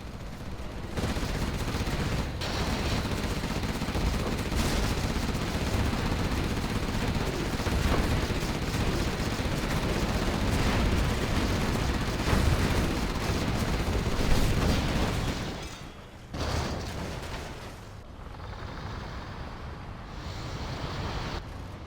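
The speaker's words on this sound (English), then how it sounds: "Carpet bomb coming through for Marakar, as well as the artillery" Carpet bombing and artillery fire in a real-time strategy video game, a dense, continuous roar of overlapping explosions that runs loud for most of the clip before dropping away to a quieter rumble.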